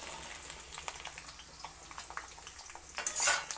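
Chopped spine gourd pieces dropped into hot oil in an iron kadai, with clattering metal contact, light stirring clinks and a soft sizzle swelling louder toward the end.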